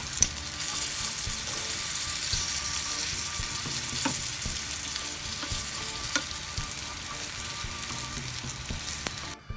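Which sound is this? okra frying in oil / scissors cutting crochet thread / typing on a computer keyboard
okra frying in oil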